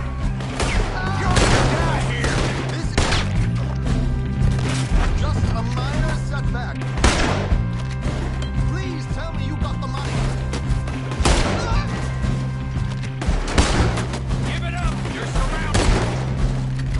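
Gunfire in a video game, repeated loud shots and bursts recurring every few seconds amid dense battle noise and booms, with voices shouting in between.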